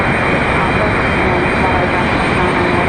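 Airliner waiting ready for departure at Raleigh-Durham airport, giving off a constant dense engine rumble, loud and unbroken throughout.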